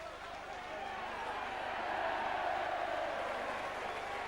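A crowd at a 1992-93 rugby league match between Leeds and Hull KR applauds and cheers in a broad, sustained wash of sound that swells slightly midway, with distant voices mixed into the noise.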